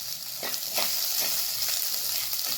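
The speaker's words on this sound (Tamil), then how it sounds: "வெங்காயம் பச்சை மிளகாய் எல்லாம் நல்லா வதங்கட்டும்." Onions and green chillies sautéing in hot oil for a Tamil-style crab curry, a steady close sizzle with soft stirring scrapes running throughout, no speech.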